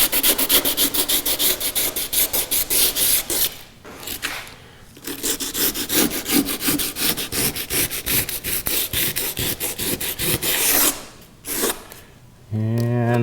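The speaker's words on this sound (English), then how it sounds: "take sandpaper, run it down the edges" Sandpaper rubbed by hand along the wooden edges of a kayak during a build, close rhythmic scraping strokes in quick succession with a few brief pauses.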